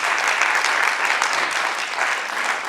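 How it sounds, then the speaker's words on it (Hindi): Loud, dense audience applause for stage performers at a cultural arts event, sustained clapping from a large crowd at a steady level for the whole stretch. "एक बार जोरदार तालियां सभी कलाकारों के लिए।"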